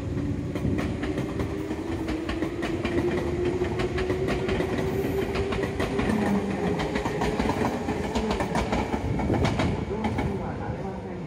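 A Tobu 200-series limited express train rolls into Kuki Station with steady rumbling and rhythmic clickety-clack of wheels, a long tonal whine sliding gradually, loud and continuous throughout.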